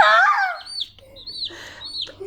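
Baby chicks kept as pets by young children give a loud, close chirp at the start, then fainter, scattered peeps against a quiet room.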